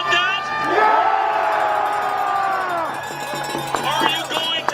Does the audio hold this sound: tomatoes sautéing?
no